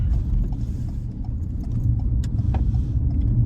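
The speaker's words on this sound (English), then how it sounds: "that truck came close to me." A truck passing very close along a road, a loud continuous low rumble and rush of engine and tire noise that swells slightly toward the end, with no talking.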